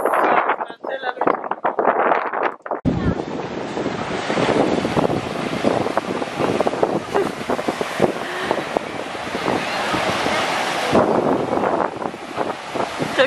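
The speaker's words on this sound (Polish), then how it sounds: "Tylko nie za daleko są fale, Natasia." Sea surf breaking on the beach at Międzyzdroje on the Baltic coast in August, a steady broad wash of waves with strong wind buffeting the microphone, starting after a brief quieter stretch with voices.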